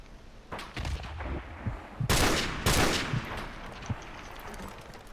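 Gunfire in Call of Duty Remastered: a few scattered shots, then two loud sharp bursts of rapid firing close together, with quieter thuds between, all at moderate distance and no talk.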